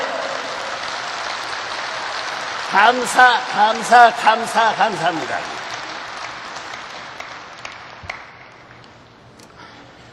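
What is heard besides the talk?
audience applause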